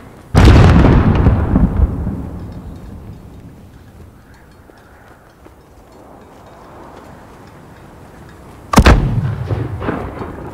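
Call of Duty Modern Warfare battle with loud close booming blasts of gunfire and mortar fire, one heavy blast with a long rumbling decay and a second sharp blast near the end.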